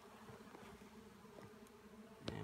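Honey bees buzzing at a hive entrance fitted with a pollen trap, a steady close droning hum with a sharp knock near the end.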